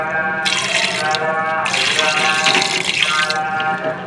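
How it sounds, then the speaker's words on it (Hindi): Water pours into a cooking pot of karahi meat with onions, a steady splashing stream in two bursts with a short break between, close and fairly loud. "पानी ऐड कर दिया इसके अंदर।"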